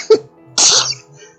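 A single sharp human sneeze, loud and close, with a soft intake of breath just before it and quiet room tone after.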